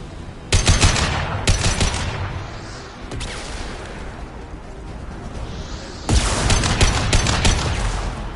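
Loud, rapid bursts of high-impact gunfire in Mass Effect, two clusters of cracking shots near the start and a long sustained barrage at the end, separated by a lull with a low rumble.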